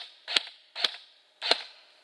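Three sharp airsoft gun shots, each a snappy crack about 0.6 seconds apart with a short ringing tail, fired one by one after a hop-up adjustment, close and clear with no talking.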